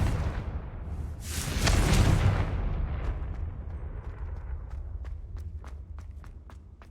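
A Confringo explosive spell cast in Hogwarts Legacy, a booming blast peaking near two seconds and fading into a rumbling tail, with light footsteps clicking afterward.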